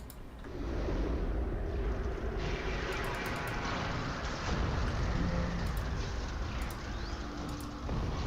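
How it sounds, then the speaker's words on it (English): The Freezing Rain skill in Guild Wars 2 produces a steady hiss of falling rain with light pattering, sustained and fairly loud through the whole stretch, mixed with faint game effect chimes. "Oh, I should put down Freezing Rain."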